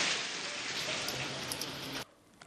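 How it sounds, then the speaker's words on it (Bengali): Heavy, torrential rain from the indirect effects of Cyclone Montha pours steadily in Bankura district, West Bengal, as a dense, loud downpour that cuts off sharply near the end, leaving only faint drips. "মুষলধারে বৃষ্টি কিন্তু শুরু হয়েছে।"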